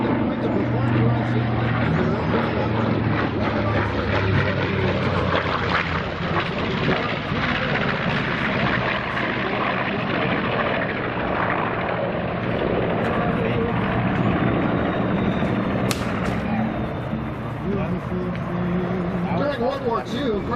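The B-25 Mitchell bomber "Grumpy" diving past at the Abbotsford airshow: a loud, steady piston-engine roar fills the whole stretch, with broadband wind and crowd-area noise throughout.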